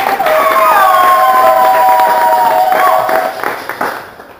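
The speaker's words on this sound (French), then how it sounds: "Applaudissez pour cela au moins." A church congregation cheers and claps loudly at a Lent sermon, voices rising together in a sustained swell before fading out toward the end.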